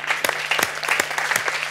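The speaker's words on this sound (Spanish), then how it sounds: "Un aplauso." Brief burst of audience applause at a live comedy show, a short run of uneven claps at close range without any speech.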